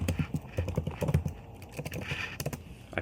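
Keys on a computer keyboard are tapped in quick irregular clusters with a short lull partway through, close and moderately loud, with no talking.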